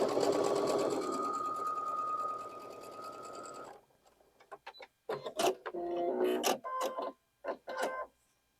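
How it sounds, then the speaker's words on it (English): A sewing machine stitches the point of quilt fabric for a Card Trick quilt block, running in one steady loud burst for several seconds, followed by quieter intermittent clicks, rustles and handling noises. "we're going to sew this little point. That way our machines don't eat those little points of our fabric"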